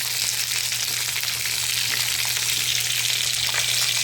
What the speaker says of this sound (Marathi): ते डाग पडेपर्यंत मस्त ही मिरची भाजून घ्यायची आहे आपल्याला